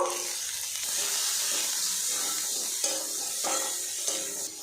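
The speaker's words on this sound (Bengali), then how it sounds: "কড়াইশুঁটিটা পেঁয়াজ রসুনের সাথে একটু নাড়াচাড়া করে নেব" Green peas, onion and garlic are stirred and fried in a wok, giving a steady sizzle with repeated scraping strokes of the spatula. The sound is close and fairly quiet, with no talking.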